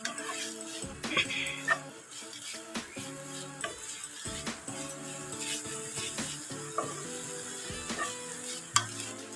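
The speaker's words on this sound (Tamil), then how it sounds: "நல்லா வதக்கி விட்டுட்டு லோ ஃப்ளேம்லேயே வச்சுருக்கணும்" Drumstick leaves with grated coconut sautéed over low flame in a pan: a continuous close sizzle with repeated spatula scrapes and stirring knocks, with a low tonal hum running underneath.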